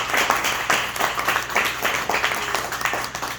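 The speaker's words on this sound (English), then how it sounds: "Please give a round of applause for Josephine Woolington." Audience applause at an evening book event, a sustained wash of many hands clapping that rises and falls steadily for several seconds, fairly close and full, with no voices over it.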